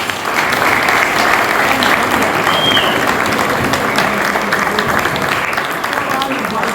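Loud, sustained applause from a crowd at a Christmas sports gathering in Vizela, thick steady clapping, with a brief whistle and some voices mixed in among the audience.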